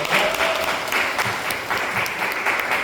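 Applause from a congregation during a Sunday worship service, brisk crowd clapping that swells in loose pulses and continues to the end.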